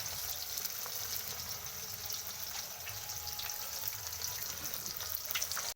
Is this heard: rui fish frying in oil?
yes